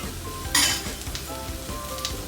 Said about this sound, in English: Today you want to toss in the red carrot.